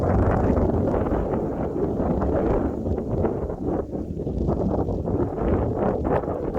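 Strong, cold, steady wind on snowy Yongmunsan mountain in Yangpyeong, South Korea, roars continuously across the microphone, loud and broad with slight gusting surges.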